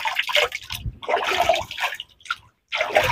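Spring water piped by gravity from a hillside water tank on a rural farm pours out in a loud, steady gush, with two brief pauses in the flow.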